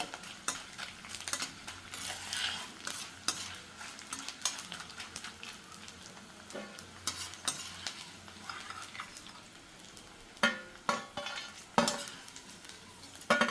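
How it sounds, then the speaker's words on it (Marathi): Edible gum (dink) for sugar-free ladoo fries in hot fat, giving a soft bubbling sizzle broken by frequent scraping and clinking of a spoon stirring against the pan, with no speech. "आता सर्व डिंक मी असा तळून घेते."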